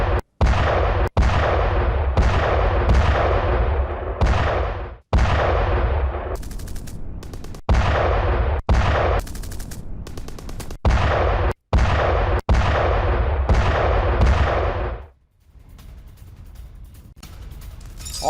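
Artillery and rapid gunfire from Russian attacks in war news footage, heavy bursts of booms and shots repeating in quick succession, loud and close, with brief gaps and a quieter stretch near the end; no talking.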